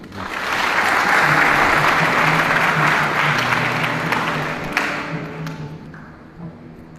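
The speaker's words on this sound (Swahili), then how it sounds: "Nyie wote ni waimbaji wazuri, mjipigeni makofi." A church congregation claps together at an Easter service in Tabora, a dense and loud wash of applause that swells early and then slowly thins out over several seconds.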